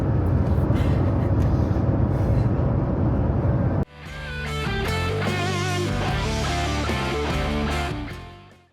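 Steady road rumble and tyre noise fill a car cabin on the drive back from a rifle range, then cut off abruptly as music takes over for the rest.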